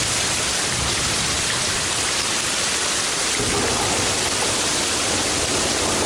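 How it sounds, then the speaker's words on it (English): Heavy rain pours down outside in a steady, dense roar during a downpour with hard hail and thunder, the broadband wash continuous and loud throughout with no voices. "It's starting to downpour outside. Some hard hail, thunder, and lightning."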